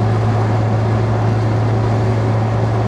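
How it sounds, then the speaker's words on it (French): Steady engine drone of an Amphicar amphibious car cruising on the road, a constant low hum with broad road and wind noise, loud and unbroken with no voices. "Le régime il tombe tout de suite et le bruit du moteur avec"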